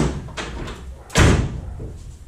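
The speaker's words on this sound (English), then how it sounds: "It's funny, the gaps don't line up till this door is shut." A Ford Edsel's door slams shut with one loud, close thud, followed by a little faint rattling. Before it comes a quieter clunk of the latch catching.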